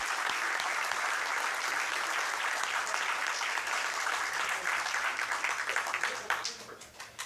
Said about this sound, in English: another nice round of applause